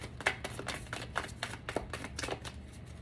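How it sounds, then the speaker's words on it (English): A deck of tarot cards is shuffled by hand in a quick series of soft riffling, flapping bursts that repeat in a steady rhythm, close and fairly quiet. "Let's give it another shuffle there after we did the split."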